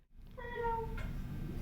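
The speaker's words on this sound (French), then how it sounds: "Merci au chat derrière." A cat lets out a single clear meow in the background of a quiet indoor room, drawn out for about half a second over a low, steady hum.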